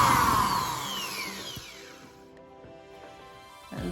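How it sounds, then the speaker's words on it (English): A power drill boring a hole into the side of a block heel for homemade sandals, a descending whine as the motor winds down, then a short burst of tool noise at the end, with no talking. "drill the hole in"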